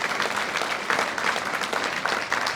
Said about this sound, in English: one more round of applause for all of our ambassadors